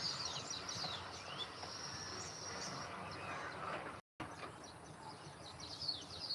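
Birds, including migratory birds, chirp and call across green countryside near a dam, with insects buzzing underneath. The sound is fairly faint and continuous, with a brief silent gap partway through.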